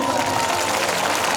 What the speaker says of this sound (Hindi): एक बार हमारे साजिंदों के लिए जरा जोरदार ताली बजाइएगा